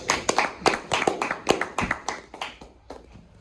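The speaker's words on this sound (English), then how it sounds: "I think we need to give him a big round of applause." An audience claps in applause, a burst of sharp, quick hand claps that starts fairly strong and thins out toward the end, fading as fewer hands keep going.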